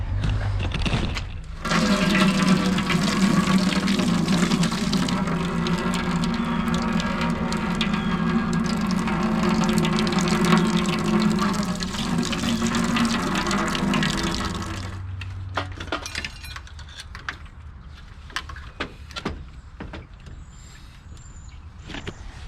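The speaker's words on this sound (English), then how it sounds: "time to drain the coolant." Engine coolant pours and splashes out of a Volkswagen Jetta MK2 barn find in a loud, steady close gush that cuts off after about fifteen seconds, leaving faint drips and small clatters.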